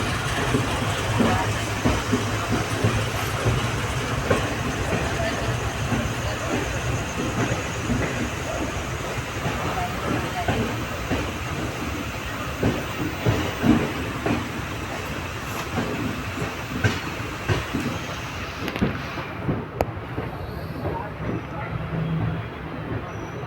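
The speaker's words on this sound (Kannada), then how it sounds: "ನಮ್ಮ ಟ್ರೈನ್ ಬಂದೈತಿ ಸಕಲೇಶ್ಪುರ ಕಡೆ." Panchaganga Express rolling along the rails toward Sakleshpur, a continuous rumbling ride with repeated clicking wheel beats, heard from inside the train at moderate level, with a few faint voices in the background.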